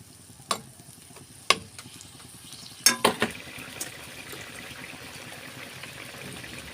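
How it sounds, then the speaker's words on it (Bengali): Bitter gourd vegetables are stirred in a pan, a few distinct scraping clacks of a utensil against metal followed by a soft, continuous low sizzle. "সুন্দর করে নাড়াচাড়া করে আমি ঢেকে দেব"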